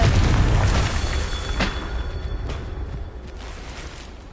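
A Confringo fire spell bursts in Hogwarts Legacy, a loud dense boom with a sharp crack near the middle, fading into a rumbling tail.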